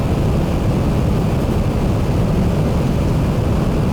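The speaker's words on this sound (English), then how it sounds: "that's the 500 oscillator Mega Drone, basically playing 500 of the same notes" A dense, steady drone from 500 tuned flashing-light oscillators sounding the same note together, a thick unbroken wash that holds at a constant loud level throughout.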